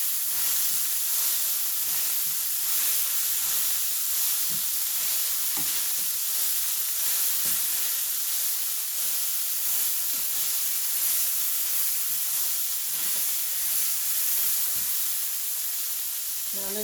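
A hamburger patty for Hawaiian-style loco moco sizzling in a pan: a constant, loud hiss with a few soft pops and crackles, unbroken for the whole stretch with no talking.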